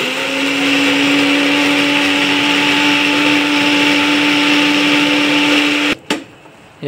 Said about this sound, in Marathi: मिक्सर करून झालंय मस्त.